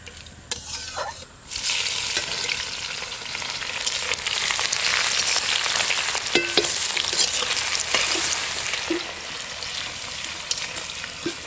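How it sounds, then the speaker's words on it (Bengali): Onions frying in a pan for a picnic goat-meat curry, a steady broadband sizzle filling the whole stretch after a short quieter start, with occasional spatula scrapes and pops close by. "পেঁয়াজটা ভাজা হয়ে এসছে"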